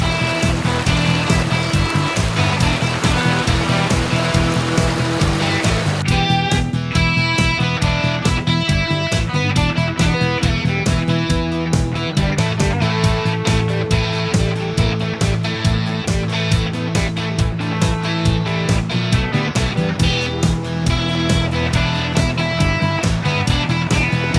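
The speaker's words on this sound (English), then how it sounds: "Over the creek! Water crossing!" A 2016 Jeep Wrangler Sport crosses a creek on a mountain trail, water rushing and splashing steadily under a strongly tonal, music-like bed for a long stretch, with no one speaking.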